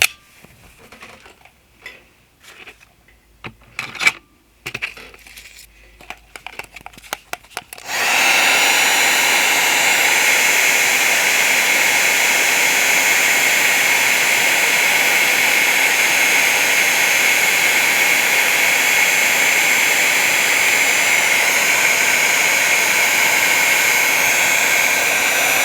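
After a few faint rustles and clicks, a heat tool blows continuously while heating shrink plastic for shrinky dinks, producing a loud, steady, close-up hiss that lasts to the end without a break.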